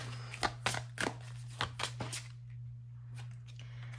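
Tarot cards are shuffled and handled to draw one or two, giving soft riffling and flicking bursts close up over a low hum, with quieter rustling after.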